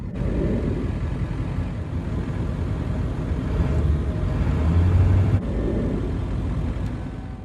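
A Ford F-250 pickup with a 7.3L Power Stroke diesel rolls down the road, its low, steady engine rumble and road drone heard from inside the cab, swelling slightly midway before easing back.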